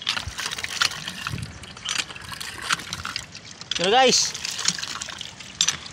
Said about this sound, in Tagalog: awas ng gripo na bumbahan yung ginawa ko